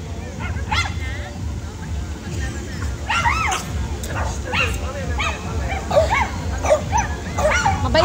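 A dog on a car-free Sunday at Ayala Avenue yips, barks and whimpers in short repeated bursts over street bustle, with people talking throughout.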